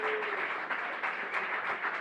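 Football crowd at a Lanusei versus Torres match applauding a substituted player as he leaves the pitch, a steady broad wash of clapping from the stands, held at even loudness with no talk.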